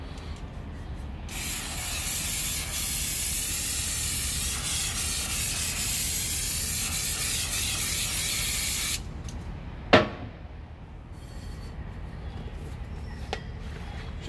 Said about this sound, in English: I will generally spray some anything, just some sort of lubricant back inside the bowl so that releases next time